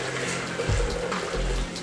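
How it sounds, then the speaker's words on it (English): Two and a quarter cups of warm water pour into a French bread dough mix, a close, steady splashing stream with a couple of heavier low gushes, heard without talk. "So I have 2 1/4 cups of water, so we are going to add that in."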